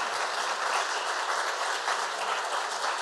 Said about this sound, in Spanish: por favor, un aplauso para todos que están de este lado porque son brillantes lo que están haciendo